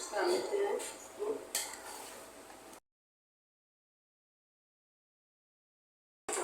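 Chicken pulao rice is stirred in a pot with a few scraping clinks of a utensil against metal, followed by a long silence.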